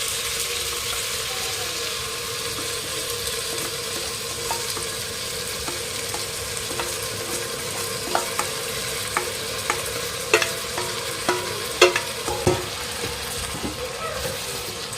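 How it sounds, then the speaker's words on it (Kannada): Rice frying in a pan for robo-cooker biryani, a steady close sizzle throughout with scattered scraping stirs and clinks growing more frequent toward the end. "ಸೊ ರೈಸ್ ಸ್ವಲ್ಪ ಇದರಲ್ಲಿ ಫ್ರೈ ಆಗಬೇಕು, ಆವಾಗ ತುಂಬ ಚೆನ್ನಾಗಿ ಬರುತ್ತೆ."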